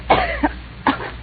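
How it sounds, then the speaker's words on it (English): A person gives three short, dry coughs with brief gaps between them, close and clear and with no talking around them. "You got a bad cough."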